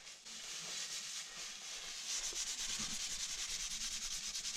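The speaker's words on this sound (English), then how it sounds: "you take shavings of the same wood and you rub it on the wood and it polishes itself" Black locust wood shavings rubbed hard against a black locust selfbow to burnish it, a steady dry scratchy scraping that grows louder and more rhythmic partway through, with quick repeated strokes close up.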